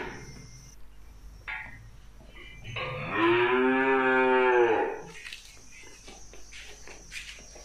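One long, loud moo from cattle at a Tra Vinh cattle trade, where fattening bulls and breeding cows are sold. It swells for about two seconds over a steady background of insect chirping and faint rustling.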